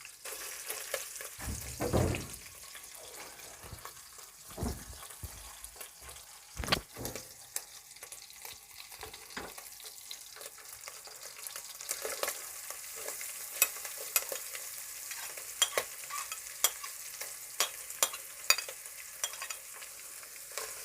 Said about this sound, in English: So I'm going to let my onions brown as I fry the meat too.